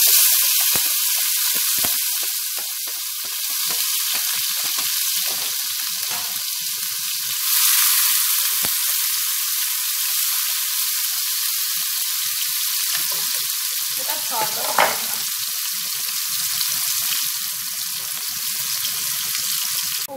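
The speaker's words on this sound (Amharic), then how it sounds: "ከዛ በዚህ ላይ መልሼ ምን ጠብሳለሁ መሰላችሁ ሽንኩርት አለኝ በስላይስ የተከተፍኩት" Sliced onions frying in oil for chicken and potato biryani: a steady, close hiss of sizzling that carries on for twenty seconds, with a brief louder flare and stirring midway.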